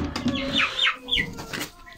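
A young Australorp pullet gives a few short, clucking calls close by, brief bursts of fowl vocalisation with faint background noise between them.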